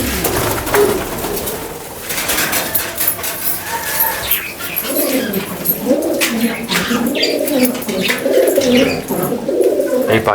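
Pigeons or doves coo steadily on a farm, with repeated low, rolling coos overlapping near and far and a few light chirps mixed in, with no talking.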